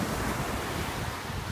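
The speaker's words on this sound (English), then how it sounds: "Beautiful ocean out in Panama City." Ocean surf on Panama City Beach, a steady broad wash of breaking waves mixed with gusty wind buffeting the microphone, continuous and moderately loud with no voices.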